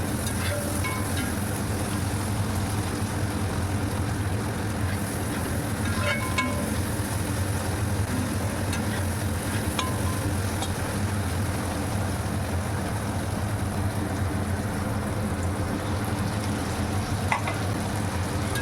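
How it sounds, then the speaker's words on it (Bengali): Lote (Bombay duck) fish frying in spice masala over a raised flame, a steady dense sizzle with faint scattered stirring clinks throughout, close and continuous. "এখন চুলার ফ্লেম মিডিয়াম থেকে একটু বাড়িয়ে দিয়ে কষানো মশলার সঙ্গে লোটে মাছ খুব ভালোভাবে নেড়ে চেড়ে কষিয়ে নেব।"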